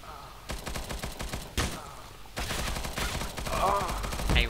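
Rapid gunfire in the Roblox shooter Counter Blox, a dense stream of loud bursts and rattling fusillades with brief pauses, with a voice talking and exclaiming over the shooting near the end.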